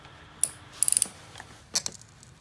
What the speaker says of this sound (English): Make sure you're using an appropriately sized ratchet.